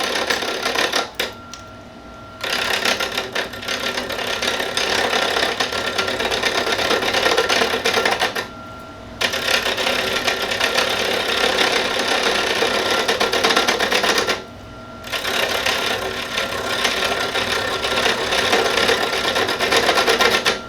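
A wood lathe spins a pen blank while a tool cuts it, giving a loud, continuous scraping rasp that breaks off in two short gaps and then resumes, no talking.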